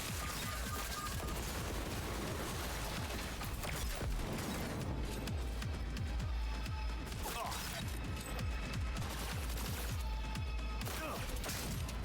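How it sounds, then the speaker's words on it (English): Turrets fire in Cyberpunk 2077 Phantom Liberty, a dense, continuous barrage of rapid gunfire with crashing impacts running the whole stretch, loud and close amid game effects, with a voice briefly heard over it. "Turrets! Fire them up!"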